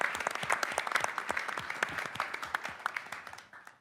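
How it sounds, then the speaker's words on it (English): An audience in a public service commission hearing applauds for Stephanie, a dense, steady round of clapping from a crowd that fades out toward the end, with no talk over it. "let's give Stephanie another round of applause."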